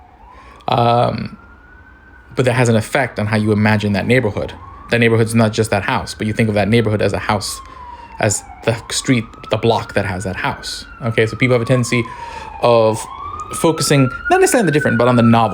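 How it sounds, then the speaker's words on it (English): An emergency vehicle siren on a Brooklyn, New York street wails repeatedly in the background, sweeping up and down in long arcs, beneath someone talking continuously in the foreground. "Apologize for the sirens in the background."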